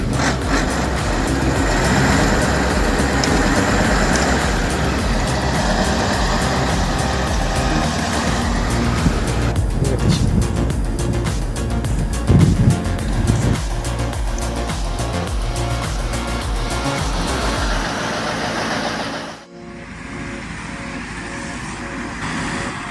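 A 450-horsepower Kirovets tractor engine runs loud and close, a heavy continuous diesel roar with rumbling and clattering, easing off briefly near the end.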